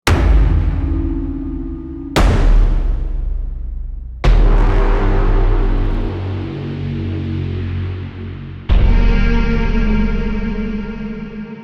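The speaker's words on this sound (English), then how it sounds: "So it's just the organic hits merged and mixed up with a lot of effects" Four heavy organic percussion hits from a cinematic sample library, drenched in reverb, echo and distortion effects, strike every two to four seconds, each a booming crash with a long, roaring tail, loud and alone.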